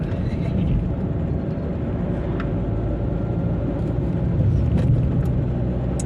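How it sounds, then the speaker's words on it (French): Steady low engine rumble of a car driving along, continuous and fairly loud throughout with faint higher road noise, no voices. "Vous entendez? C'est la voiture."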